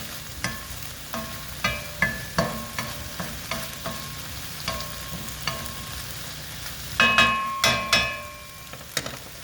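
Green chile stew with meat cooking in a pot, heard as a series of spoon knocks and scrapes against the pot over a soft simmering background, with a denser cluster of clanks near the end.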